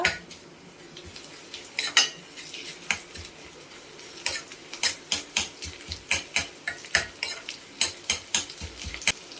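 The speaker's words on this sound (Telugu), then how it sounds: "ఆయిల్ వేడైన తర్వాత ఆవాలు, జీలకర్ర, వెల్లుల్లి రెబ్బలు ఇలా దంచుకుని వేసుకోవాలి" Mustard seeds, cumin and crushed garlic fry in hot oil, a soft sizzle running underneath while a metal spoon repeatedly scrapes and clinks against the pan in a series of sharp stirring strikes.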